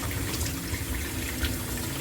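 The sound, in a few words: water running while rinsing red lentils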